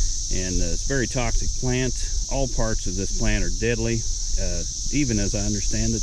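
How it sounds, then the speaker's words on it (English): A steady, high-pitched chorus of 17-year periodical cicadas drones continuously in the background while someone talks over it throughout. "I'm sure you can hear our friends, the 17-year cicadas in the background"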